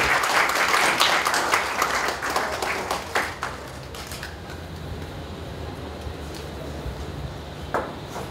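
Audience at a Women's Day celebration applauding the welcome of Professor Garg, loud clapping for about three seconds that thins into scattered claps and fades to quiet room tone.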